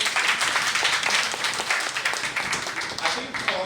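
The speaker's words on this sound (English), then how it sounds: "So let's give it a round of applause." A conference audience at a national project management event breaks into sustained applause, a dense, steady wash of many hands clapping close by for the full few seconds without letting up.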